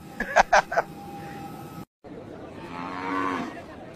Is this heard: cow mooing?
yes